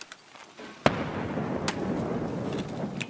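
Grenades going off in Escape from Tarkov: one sharp, close blast, then a couple of fainter, more distant pops over a low background rumble.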